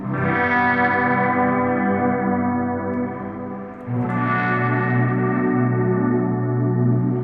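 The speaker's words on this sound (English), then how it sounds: "Sort of worn tape delay sort of sound." Washed-out, wobbling guitar tones smeared by a modulated, worn tape-style delay set fully wet, with no clear attack, one long swelling chord fading into another, lush and fully effected.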